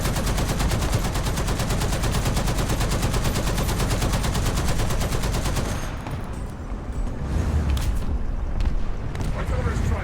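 A .50 cal machine gun firing in War Thunder, a long rapid, evenly paced burst that stops partway, followed by quieter rumbling battle noise.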